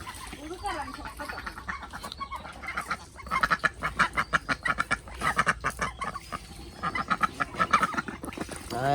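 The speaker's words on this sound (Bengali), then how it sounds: "সিলভার কালার হাঁস" Silver-coloured ducks arriving back from a canal, giving a run of rapid, rhythmic quacks that swell and fade, loud and close, with a person talking at the start.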